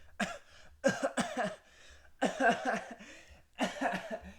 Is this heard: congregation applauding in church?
no